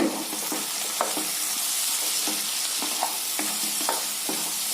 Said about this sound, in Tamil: சேர்த்துட்டு நல்லா பெரட்டி விடுங்க